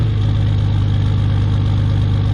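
Diesel truck engine holding a high idle while warming up, with a BD Diesel Howler fitted: a loud, steady, close throbbing drone with a rapid even pulse throughout, and no voices.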